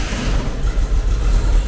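Air-cooled engine of a 1980 Volkswagen Kombi running after sitting 12 years, a close, loud, uneven low rumble with a pulsing chug, no talk over it.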